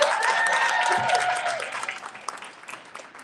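Audience applause at an evening honors event, a dense wash of clapping that starts loud and gradually thins and fades over a few seconds.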